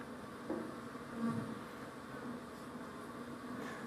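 Honeybees hum in a soft, continuous buzz with slight swells, faint and fairly close, with no voices.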